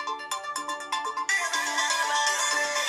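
A song ringtone preview plays from an Oppo F27 Pro Plus phone, starting with plucked melodic notes and swelling into a fuller, brighter musical passage, clear and close with no talking.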